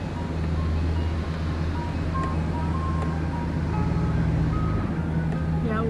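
An ice cream truck chimes its melody at a distance in Galveston, Texas, thin tinkling tones over a steady low rumble of a vehicle engine and wind.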